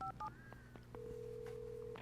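A telephone is dialed in Alan Wake, with a few short keypad tones followed by a long steady ringing tone, faint and without talk.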